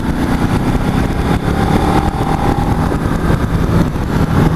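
A 2013 Ducati Multistrada motorcycle engine runs steadily and loudly throughout, a continuous rumbling drone with a faint higher whine partway through.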